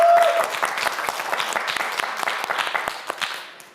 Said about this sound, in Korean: 허담 학생에게 큰 박수 부탁드립니다